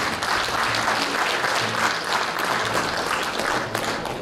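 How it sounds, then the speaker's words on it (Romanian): An audience applauds a folk ensemble at a cultural hall in Șoldănești, a steady, dense roar of clapping from many hands that fills the room without pause. "Deci, da, aplaudați,"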